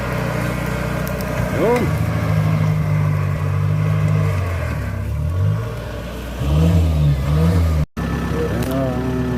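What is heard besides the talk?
Kubota machine engine running during rice harvest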